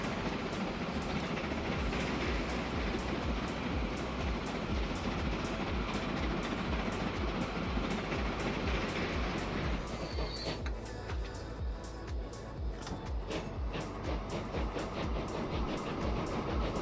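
A train running in the video game Transport Fever 2, a loud steady rumble with rhythmic clickety-clack of wheels over rail joints, continuous throughout.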